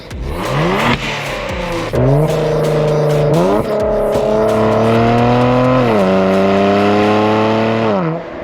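Kia Stinger fitted with catless downpipes revs hard, its turbocharged engine rising and falling through several loud, sustained pulls with a rasping exhaust note and turbo whine, close up and with no talking.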